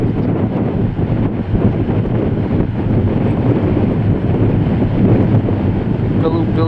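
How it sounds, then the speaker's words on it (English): Wind-blown surf at Lusty Glaze beach in Newquay on a windy day, a dense continuous roar of waves and wind buffeting heard from a hillside above, loud and steady without pauses. "the waves are splashing in."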